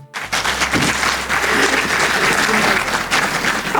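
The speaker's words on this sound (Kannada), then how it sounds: "ನಿಮ್ಗೆಲ್ಲರಿಗೂ ಒಂದು ದೊಡ್ಡ ಚಪ್ಪಾಳೆ" An audience at a talk bursts into applause after a brief silence, quickly swelling into loud, full clapping that holds steady from many people nearby.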